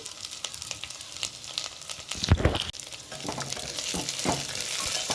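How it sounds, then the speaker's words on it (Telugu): Potato, carrot and cashew pieces fry in a pan for vegetable pulao, crackling steadily under a spatula's scrapes and knocks. "ఇవి కాస్త వేయించుకోవాలి."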